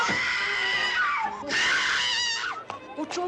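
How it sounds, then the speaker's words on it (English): Loud, high-pitched screaming and wailing from people, rising and falling in long cries with brief gaps, heard close and without other talk, from a 1967 British hospital comedy film. "What's all the screaming?"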